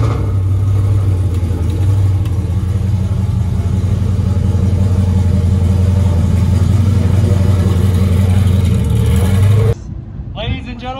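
A car engine revs steadily at a Glen Helen track event, a loud sustained drone that cuts off abruptly near the end, leaving quieter background noise.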